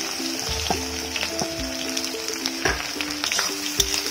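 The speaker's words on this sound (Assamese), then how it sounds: "মই পিঁয়াজখিনি ৰঙচুৱা হোৱালৈকে ভাজি ল'ম" Steady oil sizzle of onions frying until reddish with green chilli, cardamom, cinnamon and bay leaf, with occasional stirring scrapes and a tonal hum running underneath.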